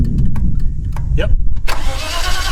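An old car that has sat unused for a long time cranks and catches, a low rumbling engine running steadily close by, with a burst of broadband noise near the end and people talking over it.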